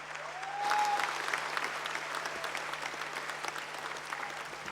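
Applause from a large party assembly audience in a convention hall, a steady roar of many hands clapping that swells quickly and holds at an even level for several seconds, heard from a distance with no voices.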